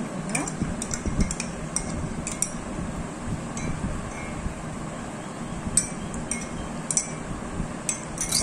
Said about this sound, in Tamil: தயிரை நல்லா சேர்த்து அதை மிக்ஸ் பண்ணி விட்டுக்கோங்க.